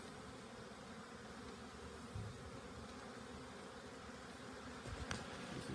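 Honey bees swarm and hum around apiary hives set in open, sunny ground, a steady dense buzz holding at an even level throughout, with a slightly louder swell of nearby wingbeats near the end.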